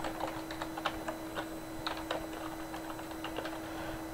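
Typing on a computer keyboard while coding a beginner Unity project, quick irregular clicks and key taps close and soft over a steady hum, no voice.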